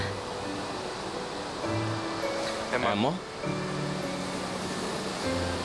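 Wind-driven waves washing at the water's edge on a windy day, a steady broad surf rush under close conversation between two young women, with a brief sharp chime-like sound in the middle.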